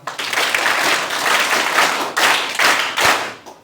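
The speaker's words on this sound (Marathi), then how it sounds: "त्यांच्यासाठी एकदा जोरदार टाळ्या वाजवूया." An audience claps loudly at a student guidance gathering, a dense, sustained burst of applause that swells and dips several times before tapering off.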